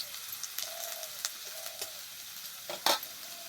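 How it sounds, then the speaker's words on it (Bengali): Spices are tempered in hot oil cleared to one side of a pan of fried potatoes and taro, giving a steady close sizzle with scraping stirs and a louder hiss and crackle near the end. "এবার সাইডে ফোড়ন দেবো, তার জন্য তেলটাকে একটু ফাঁকা করে নেব।"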